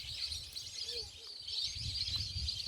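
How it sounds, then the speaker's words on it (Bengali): Migratory birds chirp and call across a lake, a steady bright twittering chorus with low rumbling background noise throughout. "অসাধারণ পাখির কিচিরমিচির শব্দ শুনে থাকবেন"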